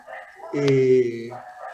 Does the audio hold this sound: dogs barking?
yes